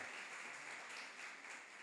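Church congregation applauding during a morning service, a steady dense wash of many hands clapping throughout, fairly faint and even, with no talk over it.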